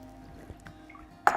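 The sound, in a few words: water being poured into a pot for lentil dahl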